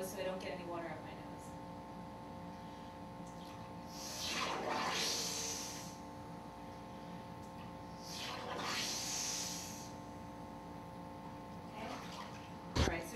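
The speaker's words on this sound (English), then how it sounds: "I'm going to blow strong out through my nose so I don't get any water up my nose" A swimmer exhales hard through the nose while submerged in a pool, producing two bubbling, gurgling bursts a few seconds apart over a steady low hum of pool machinery.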